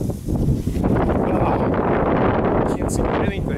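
Strong wind roaring during a dust storm, a loud, steady buffeting rush with gusty microphone rumble, close and continuous, with a brief bit of background noise near the end.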